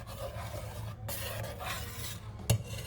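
A spoon scrapes and rubs steadily through cherry jam cooking on low heat in a pot, soft and close, with one brief sharper knock near the end.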